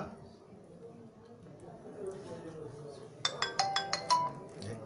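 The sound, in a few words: phone ringing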